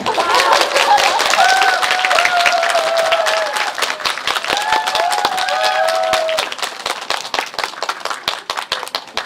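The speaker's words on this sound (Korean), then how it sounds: "박수라도 쳐주세요." A crowd at a film fan event applauds steadily for several seconds. Bright, sustained clapping mixes with excited vocal cries and chatter that fade out, leaving scattered, thinning claps toward the end.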